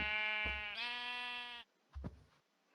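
A sheep in Minecraft gives a long bleat followed by a shorter one, fairly close and clear against a quiet background, with no talking.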